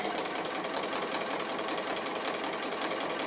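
A sewing machine stitches around an appliqué shape, a continuous close whir with quick rhythmic needle clatter, steady and uninterrupted with no talking.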